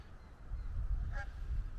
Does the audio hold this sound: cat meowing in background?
no